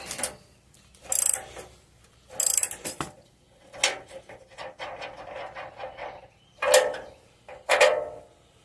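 A ratchet wrench works a nut off a rear bumper bolt on a 2002 GMC Sierra, clicking in repeated bursts with short pauses between pulls. The clicks are close and crisp, with no voices.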